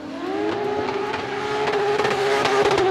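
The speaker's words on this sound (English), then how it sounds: "Listen to the exhaust note." A drift race car's exhaust rises in a steady climbing drone during qualifying at a motorsport event in Orlando, loud and sustained, with crackling pops and bangs scattered over the engine note.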